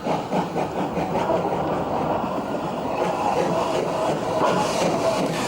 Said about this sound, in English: The 3F is seen running round its train